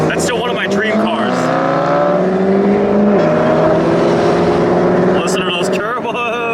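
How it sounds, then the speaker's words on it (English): A McLaren 12C's turbocharged engine revving nearby, rising and falling tonal engine notes sustained and loud, with turbo whistle and whoosh toward the end; people talk over it. "Listen to those turbos."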